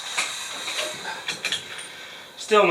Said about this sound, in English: So my compressor's pretty loud, so just have to deal with it.